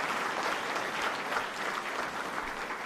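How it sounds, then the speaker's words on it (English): Audience applause at a mayoral press event about a proposed Philadelphia 76ers arena, a dense, steady wash of clapping throughout, even and moderately loud with no talk over it. "Give that a round of applause."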